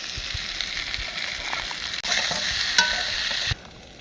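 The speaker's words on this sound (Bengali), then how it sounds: "কচুটা আমরা মোটামুটি ভেজে নিয়েছি," Taro slices sizzling and frying in a pan with oil, turmeric, salt and cumin powder, a steady close hiss with occasional stirring scrapes, briefly louder midway before dropping off near the end.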